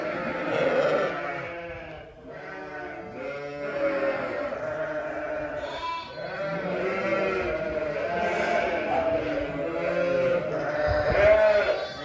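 Sheep bleat repeatedly up close, overlapping wavering calls carrying on almost without pause.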